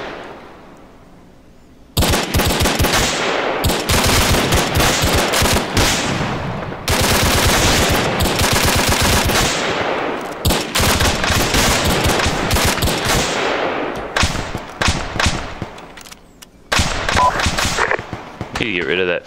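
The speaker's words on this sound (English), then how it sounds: "Shots are getting close." Machine gun fire in the Arma 3 military game, rapid loud bursts of automatic gunfire in several long stretches separated by brief pauses, with voices faintly present amid the shooting.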